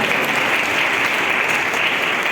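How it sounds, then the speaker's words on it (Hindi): A church congregation applauds together in steady, dense clapping that fills the room evenly throughout, loud and sustained with no break. "आइए ताली मारेंगे,"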